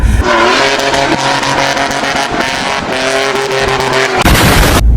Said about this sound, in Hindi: अब देख तू अभी मैं तेज चला रहा हूँ गाड़ी।